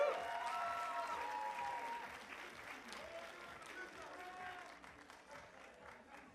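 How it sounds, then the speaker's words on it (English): Audience applause for a co-advisor called to the stage at the Mr. and Ms. International 2014 pageant, steady dense clapping that starts strong and slowly fades, with music and voices faintly underneath. "Please give a big round of applause to Sobnil."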